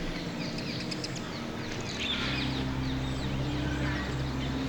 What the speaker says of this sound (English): I wish you could hear the singing of the birds.